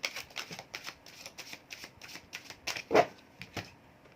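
Tarot cards are shuffled close up in a quick, regular run of crisp riffling flicks, with one sharper slap near the end and no speech.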